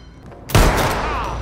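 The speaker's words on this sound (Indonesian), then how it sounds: "Baku tembak pun terjadi." A loud, booming burst of gunfire from a film shootout breaks out after a short lull, the blasts blending into a sustained dense roar that carries on to the end.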